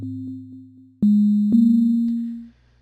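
Sonic Pi synth notes play as pure sine-like tones, a few short pulses followed by sustained notes that repeat and trail off with an echo effect, clean and alone with no voice.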